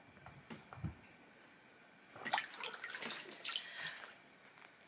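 Faint water sounds after a plug is pulled, with soft drips and trickling that grow into a fuller gurgling wash, quiet and close.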